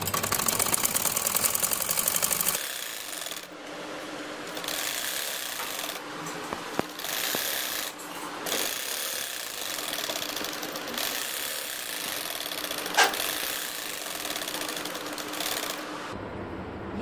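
A sewing machine stitches a strip onto a poncha hem, running in a fast, loud mechanical whir at first, then continuing in quieter stretches of rhythmic stitching with short pauses and small clicks.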